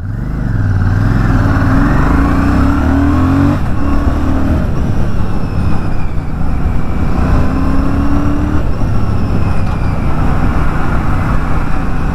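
A 2025 Royal Enfield Classic 650 motorcycle on the move, its engine droning loudly and steadily up close, with gear-shift dips and renewed pulls as it accelerates.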